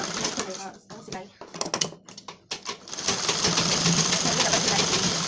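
A sewing machine stitching tucks on a blouse runs in short bursts at first, then settles into a steady continuous whir for the last couple of seconds, close and moderately loud.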